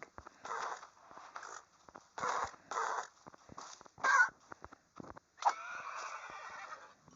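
Minecraft horse sounds: a series of short, close neighs and whinnies in bursts separated by brief pauses, ending in a longer whinny, with no talking.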